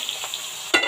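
A gas stove burner lit for cooking khichuri: a low steady hiss, then one sudden short whoosh of ignition near the end, close and fairly loud.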